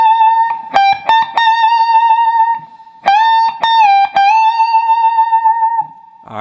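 Electric guitar solo phrase from the second solo of a song, with sustained notes, smooth string bends and quick picked attacks, loud and clean, played alone with no talk.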